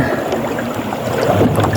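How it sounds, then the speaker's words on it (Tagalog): Strong wind buffets and roars steadily against the microphone, a dense continuous rumble with water-like wash outdoors. "Lumakas yung hangin."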